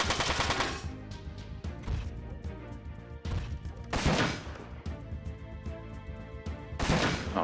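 Mech weapons fire in the video game Front Mission 4: several heavy, booming gunshot bursts with crashing impacts, spaced unevenly and loud against a dense musical bed.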